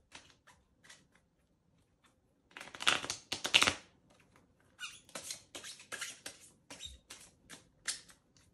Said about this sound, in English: I took a pair of cards and ran my thumb over the deck of cards